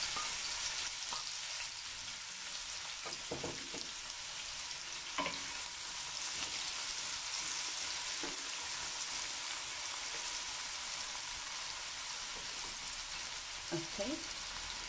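Chopped onions fry in hot oil for a mince curry, a steady dense sizzle and crackle running close and even throughout, with a few faint clinks of stirring.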